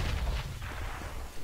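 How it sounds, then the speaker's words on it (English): A grenade explodes in CS:GO, a short, loud low-pitched blast with a rumbling tail, heard alone. "I'm throwing a grenade!"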